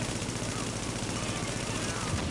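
Gunfire in the video game Resistance: a steady, dense rattle of automatic shots, continuous and somewhat muffled, with no clear pauses between bursts.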